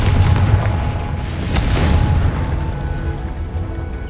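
A Confringo spell blast in Hogwarts Legacy booms loud and close, a heavy explosion whose low rumble rolls on for several seconds, with a second surge partway through.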